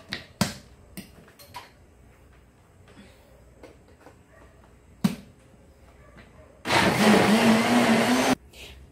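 Kitchen blender running on garlic pounded with salt for seasoning, one loud whirring burst of under two seconds after scattered clicks and handling noises.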